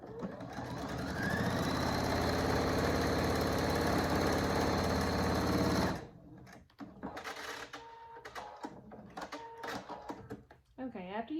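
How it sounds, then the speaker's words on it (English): A sewing machine runs steadily, stitching the top edge of a fabric wallet with an eighth-inch seam allowance; the loud, continuous whir lasts about six seconds, then stops and gives way to quieter handling sounds. "now you're going to sew the top with an 1/8 of an inch seam allowance"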